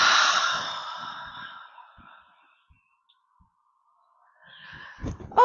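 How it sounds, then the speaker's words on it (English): A single long, slow exhale during a qigong breathing exercise, breathy and fading gradually into near silence before soft rustling movement returns at the end. "Exhale."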